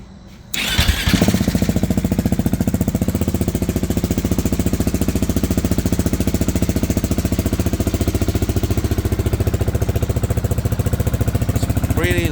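A 2023 KTM 690 SMC R single-cylinder motorcycle fitted with an Arrow muffler, baffle still in, fires up and settles into a loud, steady, throbbing idle close by, the pulses running evenly for about twelve seconds with no talking.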